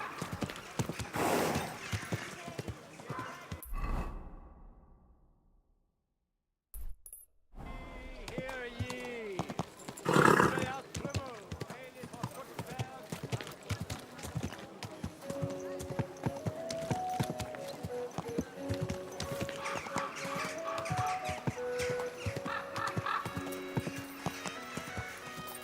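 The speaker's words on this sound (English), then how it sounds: "Easy, good horse." A horse's hooves clip-clop steadily in Kingdom Come: Deliverance 2, with a whinny partway through and people talking over the hoofbeats, interrupted by a brief silent gap.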